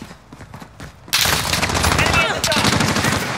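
Sustained automatic gunfire in the video game Modern Warfare, a loud dense burst of rapid shots that starts abruptly after a quieter opening and continues to the end.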